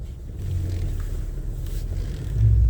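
A car driving along, heard as a steady low engine rumble and road noise that swells a little louder near the end, with no talk.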